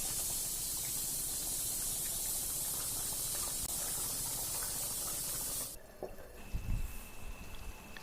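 Fish curry with wild greens simmers in a covered pot, giving a steady soft hiss for several seconds before it cuts off, followed by faint bumps and handling noise.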